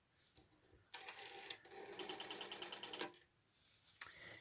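A rotary telephone dial whirring back repeatedly while wired to a phone tester, with two distinct rattling ratchet runs of clicks at close range, separated by a brief pause and ending with a sharp click.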